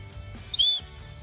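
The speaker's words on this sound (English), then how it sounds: "And the whistle" A Leatherman Signal multi-tool's built-in whistle gives one short, sharp, high-pitched blast of about a quarter second between quiet handling noise.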